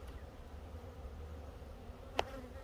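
Bees humming faintly and steadily around a Warre hive outdoors during an inspection, with one brief closer buzz as an insect passes near.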